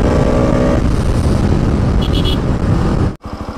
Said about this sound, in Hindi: अभी जो एग्जॉस्ट जो मैंने इसका बैंड पाइप निकाल के जो स्टॉक था वो लगवा दिया इसमें